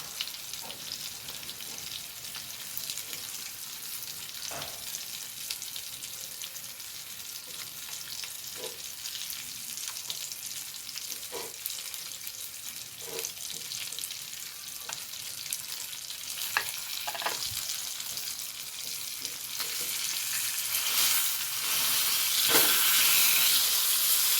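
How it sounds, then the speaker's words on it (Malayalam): Akoli fish fries on a large tawa with a steady, continuous sizzle and occasional crackles and pops, growing louder toward the end, with no one talking. "ഞാൻ വലിയ തവ എടുത്തു ഇട്ടോണ്ട് വറുക്കാൻ വേണ്ടിയിട്ട്"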